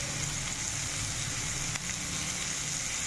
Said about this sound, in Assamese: আৰু এয়া পিঁয়াজ জলকীয়া ভাজি লওঁ